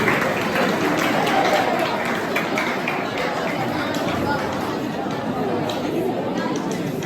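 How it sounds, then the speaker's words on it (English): Audience applause at a school event, dense steady clapping with crowd chatter blended in, holding at an even level for several seconds. "Let's give her a round of applause."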